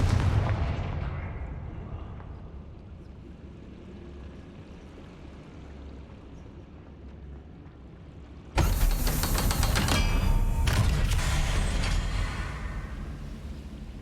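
Confringo blasting spell in a Harry Potter video game, a sudden loud burst of explosive crackling and rumble that erupts after a quieter ambient stretch, then holds strong for several seconds before easing slightly.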